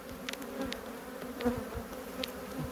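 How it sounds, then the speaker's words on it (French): Honey bees swarm around a trap hive, producing a faint, continuous buzzing hum with scattered brief louder passes of individual bees nearby. "Ça pourrait quasiment réessaimer quand on voit la quantité d'abeilles"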